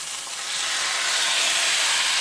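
Rice with browned noodles fries in hot oil in a pan, giving a steady, loud sizzling hiss that swells slightly after the first half second and then holds even, with no voices.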